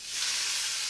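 Shrimp dropped into hot oil in a pan give a steady, bright sizzle with a continuous hiss, close and fairly soft, with no voices over it.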